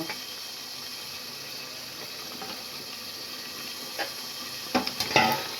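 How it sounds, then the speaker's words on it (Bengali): Fried potatoes drop into a pan of softening tomato curry, adding a few scraping knocks near the end over a steady background sizzle. "এখন আমি ভেজে রাখা আলুগুলো দিয়ে দিব।"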